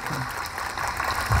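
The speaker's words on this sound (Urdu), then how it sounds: "زبردست، ایک بار زوردار تالیاں بجا دیے" Brief burst of audience clapping at a panel discussion on 100 years of AMU, a dense, even patter throughout with no voices.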